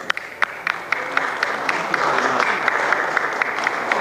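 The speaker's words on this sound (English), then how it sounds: "So a warm applause for Congressman Robert Andrews." Applause from an audience at a congressional reception, steady clapping with sharp individual claps standing out, loud and close, lasting the whole stretch without talk.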